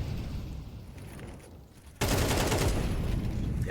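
Gunshots in an esports video game match: a steady rattle of game action, then a sudden loud burst of rapid automatic fire that keeps going to the end.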